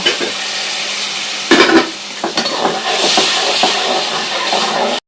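Garlic paste, turmeric and chili powder sizzle steadily in a hot pan while being stirred, with a sharper hissing burst partway through as a little water is poured in, then continued sizzling and scraping.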